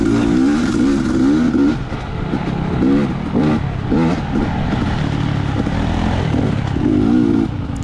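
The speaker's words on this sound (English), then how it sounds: "Riding a YZ450. It's a lot of bike for the tight woods." A Yamaha YZ450 dirt bike races through tight woods during a GP event, its engine buzzing loud and steady while the rider shifts and blips the throttle in repeated surges.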